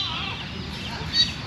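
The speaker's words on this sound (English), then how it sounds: "Mama and her baby chickens." Chickens clucking outdoors, a mother hen with about ten baby chicks running around, soft continuous peeping and clucks at moderate distance with a brief louder call near the end.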